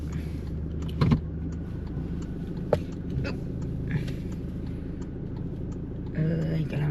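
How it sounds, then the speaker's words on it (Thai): A car on the move, heard from inside the cabin as a steady low engine and road rumble with occasional clunks and rattles, while a person speaks over it. "กำลังขับรถ"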